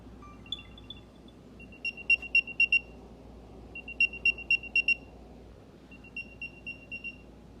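An Apple AirTag plays its locator sound, bursts of four or five bright high-pitched chirps repeating three times, fairly loud against a quiet room.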